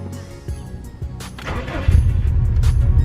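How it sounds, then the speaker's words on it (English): A 2005 Subaru Impreza WRX STi engine with a new exhaust cranks briefly, then catches and starts, settling into a steady, loud rumble close by. "car fires right up"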